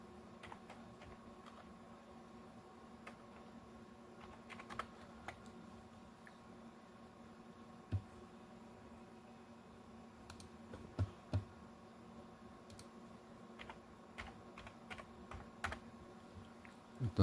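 Keys clacking on a computer keyboard as a part number is typed and entered during a lookup for an air conditioner circuit board repair, scattered soft taps with a few sharper strokes over a steady low room hum.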